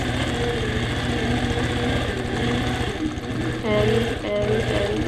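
A sewing machine runs steadily, going back and forth over dense pebble quilting fill on a diamond orange peel border, its motor hum and rapid needle stitching continuous and close, with a brief slowdown partway through.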